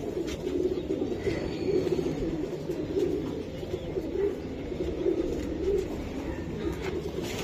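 Male racing pigeons coo steadily at close range, a dense, continuous layer of overlapping low throaty calls with soft rhythmic swells throughout.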